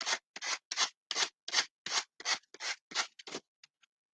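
A piece of sandpaper on a well-used sanding block drawn along paper edges in quick downward strokes, about a dozen close, loud rasping swipes in a steady rhythm, fading to a couple of light touches at the end.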